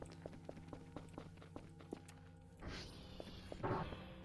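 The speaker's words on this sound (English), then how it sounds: "I can hear footsteps." Video game footsteps land in a steady run of soft thuds, with tones and a louder whoosh underneath, and a burst of effects sounding near the end.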